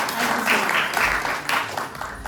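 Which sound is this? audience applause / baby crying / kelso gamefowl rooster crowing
audience applause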